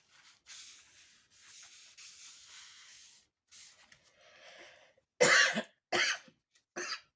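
Several sharp coughs, three close bursts near the end, after a stretch of quiet paper rubbing and sanding at a crafting table where cards are being made from a single sheet of paper.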